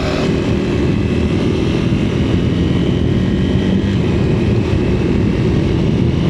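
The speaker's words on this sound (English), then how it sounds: "Might just be motorcycle noises and wind noise." Steady, loud engine drone and buffeting wind roar from a motorcycle being ridden, with no speech and no break for the whole stretch.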